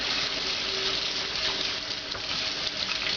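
Lukewarm water rushes steadily over a Katadyn pocket water filter as it is rinsed and scraped clean, a continuous close hiss with no talk.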